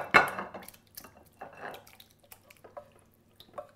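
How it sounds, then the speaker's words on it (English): Fish pie filling is spooned into an oven-proof dish, giving a sharp clink of utensil on dish followed by soft wet plops and scattered light scraping taps, close and fairly quiet. "So let's take our filling straight into a oven-proof dish."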